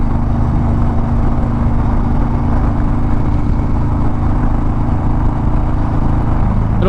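A Harley motorcycle cruises across the Mackinac Bridge, giving a steady, continuous engine drone mixed with wind rush that holds at an even loudness throughout.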